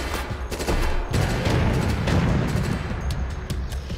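Rapid, sustained gunfire from the video game Resident Evil: Operation Raccoon City, with dense overlapping shots and booms rolling on without pause at a steady loud level, and no speech over it.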